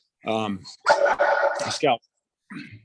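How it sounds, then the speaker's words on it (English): A pet dog named Scout yips and barks a few times at close range during a selectboard meeting, overlapping with a person speaking. "and that's my dog."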